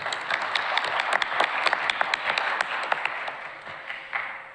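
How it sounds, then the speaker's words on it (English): An audience at a town budget hearing gives a round of applause for the new school principal, moderate clapping with distinct individual claps that rises and then fades. "I'd like to ask you to give him a round of applause"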